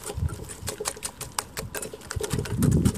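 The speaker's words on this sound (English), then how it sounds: "And you whisk this until it's eggnog." Eggs and sugar are whisked by hand in a bowl for Norwegian waffle batter, making a fast, rhythmic clatter of rapid close strokes that carries on without a break.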